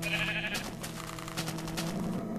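Sheep bleat in the video game Minecraft: a steady, close, nasal bleating over continuous game background sound, with no talking.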